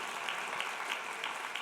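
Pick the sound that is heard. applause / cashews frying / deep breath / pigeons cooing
applause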